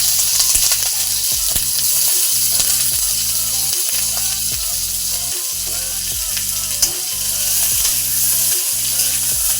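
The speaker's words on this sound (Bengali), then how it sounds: "হালকা ভেজে নিতে হবে চিকেনটাকে ভালো করে, তাহলে একটু সলিড হবে।" Chicken pieces frying in oil in a hot kadai, a steady loud sizzle with repeated scraping stirs of a spatula against the metal, no voices.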